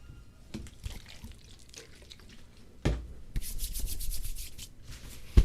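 Hands are wiped to get grease off during a 3018 Pro CNC build, heard as close, dry rubbing strokes that start quiet and intermittent, then turn into louder, sustained scrubbing toward the end.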